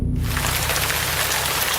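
Steady, dense rainfall pours onto surfaces at close range, a loud continuous hiss with no talking, setting the mood for a brewed coffee advert.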